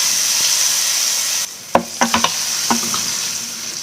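Mustard seeds, asafoetida, a broken dried chilli and curry leaves hit hot oil in a tempering pan, giving a run of sharp crackles and pops over a steady sizzle, close and fairly loud, with no talk.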